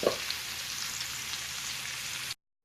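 Potatoes sizzle in a cast iron skillet, a steady, close, bright frying hiss that runs unbroken for about two seconds and then cuts off abruptly.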